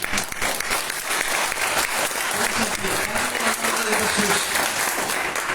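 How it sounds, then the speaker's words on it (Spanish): Steady, dense applause from a church congregation, sustained at an even loudness throughout with no pauses. "Denle un fuerte aplauso."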